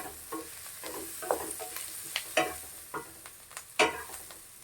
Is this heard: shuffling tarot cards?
no